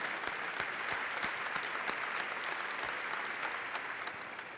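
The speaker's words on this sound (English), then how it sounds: "You're getting applause if you can't hear it." Audience applause at a NASA Moon to Mars progress report: sustained clapping from many hands, steady and moderately loud, tapering slightly at the end, with no voices over it.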